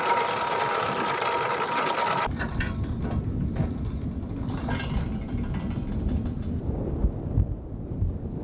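Twin engines on a cruising sailboat rumble steadily as the anchor comes up and the boat pulls out of the anchorage, a constant low drone with a brief higher mechanical whine at the start.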